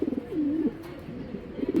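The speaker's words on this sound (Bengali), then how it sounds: "এটা অরিজিনালি সোনিয়া ব্লাডের কবুতর" A pair of white tracer pigeons coo nearby: a loud rolling, wavering coo that falls away, then softer murmurs and a fresh burst at the end.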